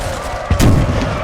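Loud, dense battle noise from the Napoleon Total War multiplayer game, with line infantry firing muskets at artillery guns in the Italian campaign, a heavy boom breaking through a constant roar of gunfire.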